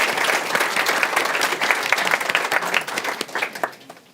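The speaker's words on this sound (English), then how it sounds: "Big round of applause." Sustained applause from a seated audience thanking panelists at the end of a discussion during a January 2025 showcase, a dense, steady patter of many hands that stays fairly loud throughout and thins slightly toward the end.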